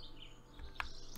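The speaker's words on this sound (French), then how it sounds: "On entend les petits oiseaux." Small birds chirp faintly in the background of the Castle Flipper video game, with one short, clearer tweet standing out above a quiet ambient bed.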